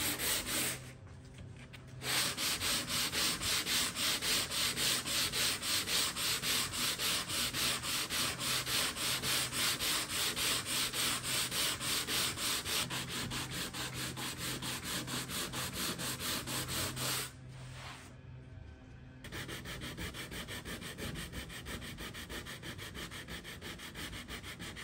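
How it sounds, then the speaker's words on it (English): Sandpaper of 80 grit rubs steadily across a wooden dresser top in long continuous strokes, faint and close, broken by two short pauses. "So I'm going to start with a really good sand with 80 grit."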